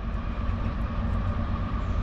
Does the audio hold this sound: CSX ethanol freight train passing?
yes